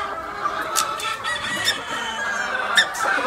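Hens cluck steadily in a gamefowl brood pen of Sweater and Kelso lines, close and busy, with a few sharper calls standing out over the constant clucking.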